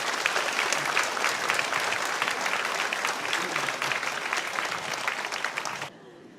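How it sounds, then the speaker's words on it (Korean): Warm, steady applause from a church congregation welcoming the preacher to the pulpit at a Sunday service, a dense wash of many clapping hands that holds evenly for about six seconds and then cuts off. "우리 나오실 때 따뜻한 박수로 환영해 주십시오."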